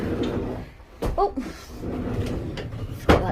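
A wooden door in a pigeon loft is pulled open with a sharp knock and a brief creak, then another clunk near the end, close by against quiet background rustling.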